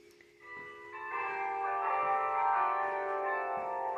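Church bells in Moclin, Granada, Spain ring out with rich sustained overlapping tones, swelling in after a quiet start and continuing steadily, fairly near and loud.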